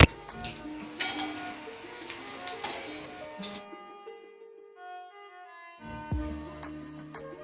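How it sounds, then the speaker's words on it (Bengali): Prawn fish fingers drop one by one into hot oil and fry with a bright crackling sizzle that breaks off midway, leaving a quiet gap with a faint tone, before a loud clatter and sizzling resume near the end. "তো এবার আস্তে আস্তে একটা একটা করে ফিশ ফিঙ্গার আমি দিয়ে দেবো।"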